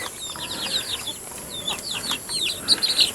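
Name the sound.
chickens clucking in a backyard flock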